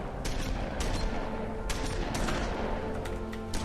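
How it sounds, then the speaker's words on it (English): Rapid repeated shotgun blasts from a firefight in the video game The Wolf Among Us, a dense fusillade of sharp loud reports one after another over a continuous rumbling background. "I've never seen a shotgun with that many rounds."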